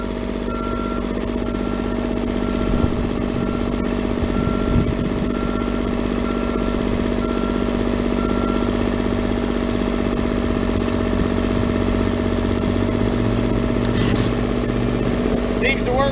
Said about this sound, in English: got a diesel motor back there. Electronic turn on